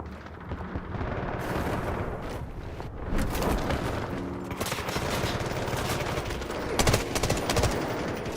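Rapid M16 rifle bursts in the Delta Force video game, loud close-range automatic fire in repeated volleys over a dense battle din of distant shots and explosions, continuing throughout.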